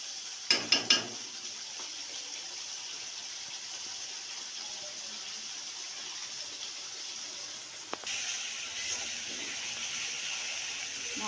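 Masala being fried (kosha) in oil for a Bombay duck (lote fish) curry, a faint steady sizzle with soft stirring, opened by a few quick metallic clinks and a single knock later on.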